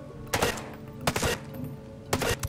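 Three separate bursts of gunfire in the video game Ghost Recon Breakpoint, each a short rattling volley, spaced roughly a second apart over quieter background noise.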